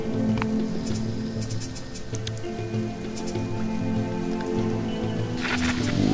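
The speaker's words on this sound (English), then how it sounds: "Ooh, lots of rain though, lots of rain coming" Rain falls in the survival video game Sheltered: a steady close patter with scattered drips over a droning tonal background bed, with no talking.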